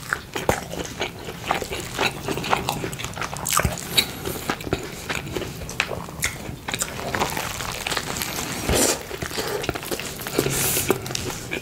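Close, crunchy biting and wet chewing of a giant cheeseburger, with repeated bites and steady mastication sounds throughout, no talking.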